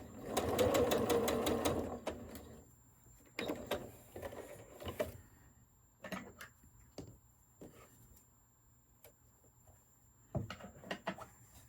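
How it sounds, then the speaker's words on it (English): A sewing machine stitches a curved quilt block of background fabric and a quarter circle, running in a rapid rattling burst, then in shorter stop-start runs with pauses, close and clear. "I leave this pin in as long as I can. And then just keep sewing."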